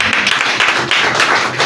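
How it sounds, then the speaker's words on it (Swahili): A church congregation claps hands for Jesus during a sermon, giving dense, loud applause that runs through the whole moment without pause. "Pigia Bwana Yesu makofi mazuri"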